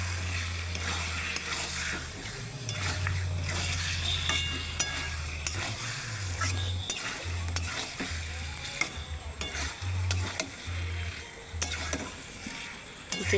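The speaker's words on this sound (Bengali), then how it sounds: "চিকেনটা সুন্দর করে কষে নিচ্ছি।" Marinated chicken is stirred and sautéed in masala that has released its oil, a steady close sizzle with scraping and clinking of the spoon, over a low droning hum throughout.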